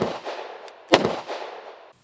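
A Beretta APX A1 Tactical pistol fired once, a single sharp close report with a short reverberant tail, preceded by faint rumbling.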